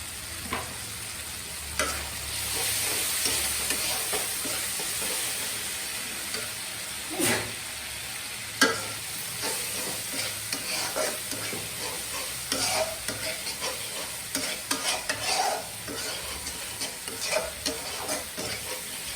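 Chopped tomato hits oily spice masala in a pan, giving a steady sizzle and hiss with repeated scraping strokes of a spoon, close and fairly loud throughout, no voices.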